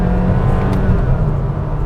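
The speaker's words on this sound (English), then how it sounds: "at a time when the car is doing those funny CVT noises like" Honda Elevate SUV with a CVT transmission droning steadily under load, a loud continuous engine hum with a whirring tone and no speech.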